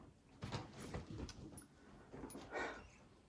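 A pet dog named Boo, on a leash, wanders in through an open door indoors, with soft shuffling, a door slide and faint movement noises in a quiet room, no talking.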